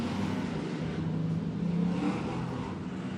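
Factory stock cars race at Penncan Speedway, a continuous, loud roar of several engines that swells slightly as the pack rushes past, with no break in the sound.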